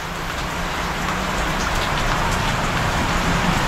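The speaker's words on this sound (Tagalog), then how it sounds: "biglang ulan na naman" Steady rain pours down, a dense even hiss of drops on a hard surface, growing slightly louder throughout; no talking.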